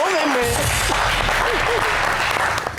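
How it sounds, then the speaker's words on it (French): A television studio audience breaks into applause on a variety show, dense continuous clapping heard up close, with a voice speaking over it. "On applaudit encore pour elle."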